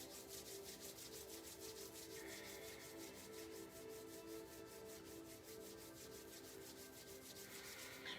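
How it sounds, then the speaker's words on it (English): Palms rubbing briskly together during a qigong exercise, a close, soft swishing repeated in a fast, even back-and-forth rhythm with no voices. "we will harvest our chi by rubbing our hands together"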